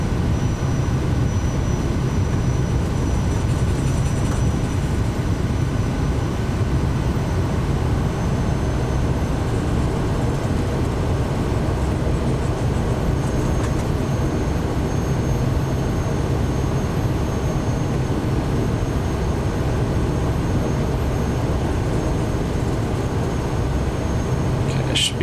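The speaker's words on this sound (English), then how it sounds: "Just using the beta thrust to slow us down a bit." An SWS Kodiak 100 turboprop in beta thrust in the MSFS 2024 flight simulator gives a steady, loud, broadband engine roar and rumble that holds unchanged for the whole stretch with no break.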